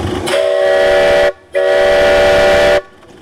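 A new steam whistle on a Virginia and Truckee Railroad locomotive sounds two loud, rich chime blasts, each over a second long, separated by a brief gap, with no talking.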